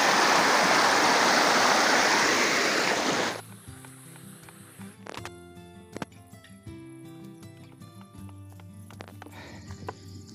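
Small streams flow through a farming hamlet, Dusun Woko Atas in Woko village, beside cornfields. A loud, steady rush of water fills the first three seconds, then quieter water continues under scattered clicks and tonal rural sounds.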